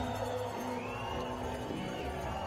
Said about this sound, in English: receives a big applause from that Swiss crowd